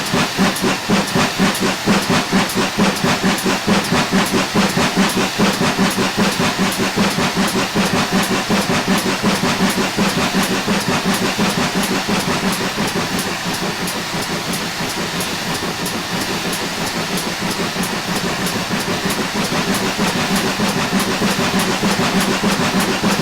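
A GWR Hall steam locomotive on the West Somerset Railway picks up speed, its loud, rapid, steady chuffs and hiss running continuously with rhythmic clickety-clack from the rails throughout.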